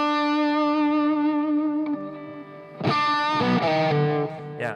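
A cheap electric guitar through an AMP1 amplifier with the volume cranked to 10 rings out in a sustained, distorted chord that slowly decays, then a sharper struck chord follows with a loud, gritty attack and ringing overtones, with no talking.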